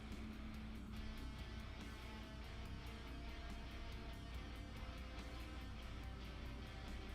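A Dremel with a small rotary stone grinding the axle of a Hot Wheels Bywayman toy car, a steady high-pitched whine that holds level throughout, faint and uninterrupted.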